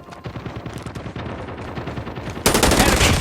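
Rapid automatic machine-gun fire from a first-person shooter game, a fast steady stream of close, punchy shots that swells into a louder, denser burst near the end.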